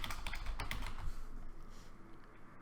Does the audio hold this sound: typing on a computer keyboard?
yes